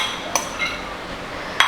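Raw green mango pieces drop into a mixer grinder jar, giving a few sharp clinks and knocks against the jar, with a quiet gap between the first hits and the last pair.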